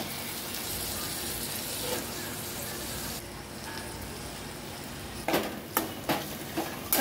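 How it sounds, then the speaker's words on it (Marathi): Soaked, washed dal lentils fry in masala in a pan, a soft continuous sizzle with quiet stirring, then several sharp spoon taps against the pan near the end. "चांगली आपल्याला ही डाळ अशी फ्राय करून घ्यायची."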